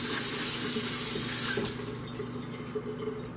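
Water runs steadily from a tap into a sink to rinse chicken wings, loud and close, then cuts off partway through, leaving quiet room noise and faint clatter.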